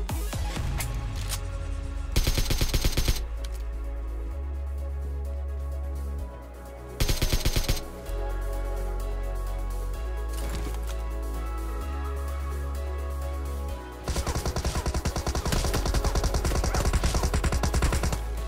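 Bursts of automatic gunfire from enemy players in a mobile battle royale game, loud and rapid, coming in several separate volleys over steady game music and ambience.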